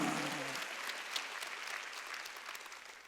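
A church congregation applauds during a Wednesday worship service, with steady clapping from a crowd that fades gradually. A voice speaks briefly at the very start.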